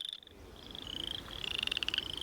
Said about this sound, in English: For some reason, when I'm talking, he doesn't mind calling. I think he must think I'm some other kind of frog that has a different call